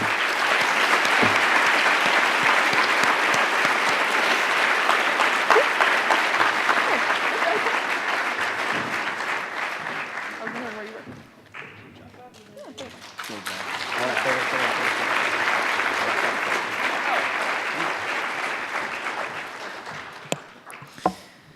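A gala audience gives a long round of applause, dense clapping that fades out midway, then swells again into a second sustained ovation.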